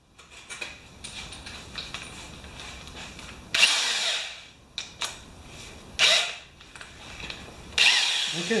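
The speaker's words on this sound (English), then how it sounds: "I am going to put a drill on that." A power drill turns a socket adapter on a Remington mower's Powermore engine, whirring in several short bursts, loud and close, with quieter mechanical rattling between the runs.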